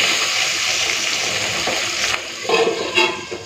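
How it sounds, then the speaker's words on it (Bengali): Fish frying in a pan as it is flipped, a loud, close sizzle that holds steady, then breaks into a few sharp bursts and clatters as the fish turns over. "মাছটা উল্টিয়ে দিই, সঙ্গে সঙ্গে ঢাকা দিয়ে দেবো"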